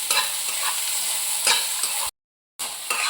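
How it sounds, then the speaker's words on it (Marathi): Okra fries in oil in a kadhai with a loud, continuous sizzle and crackle. Brief stirring scrapes cut through it, and a short silent gap breaks the sound partway through. "तेलावर छान भाजली पण जाते ही भेंडी"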